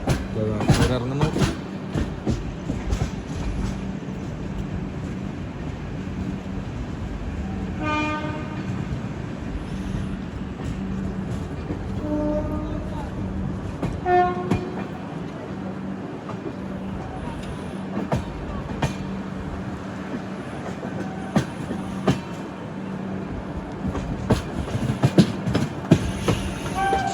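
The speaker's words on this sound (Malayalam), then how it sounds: "കുറേ പഴയ ടൈപ്പ് ലോക്കോമോട്ടീവ് ആണ്." An old-type locomotive hauls a passenger train on a long-distance run, making a continuous clattering rumble. Two prolonged horn blasts sound partway through, and people's voices are heard at times over the noise.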